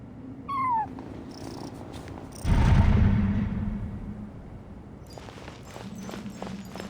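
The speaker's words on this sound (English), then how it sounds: "And so, I followed the cat's cries to find my way out." A cat in Genshin Impact gives a short rising cry, then a burst of rustling movement and footsteps follows, with soft purring and faint steps continuing under a steady ambient drone.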